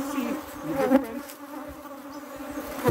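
Honey bees hum steadily at a hive being managed to curb swarming, a dense, continuous buzz close by with slight swells in pitch and loudness, no voices.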